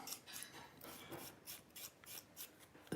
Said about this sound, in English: we just weather the board right down. Alright, and then you can scrape it